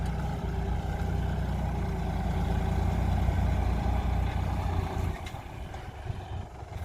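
A heavy 2013-model tractor engine chugs steadily at low revs in first gear with no load, a continuous deep rumble that holds throughout and eases slightly near the end.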